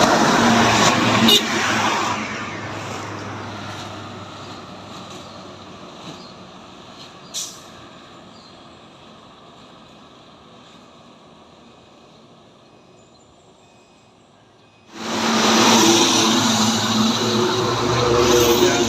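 A Putra Pelangi bus in Aceh roars close at first, fades into a long quiet stretch, then surges back loud and broad as it accelerates hard.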